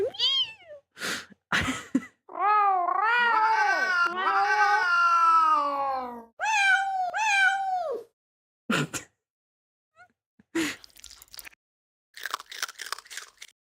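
Kitten-like cat meows, a run of rising and falling mewing calls and drawn-out cries, loud and close, with brief quieter bursts and possible chewing sounds around them.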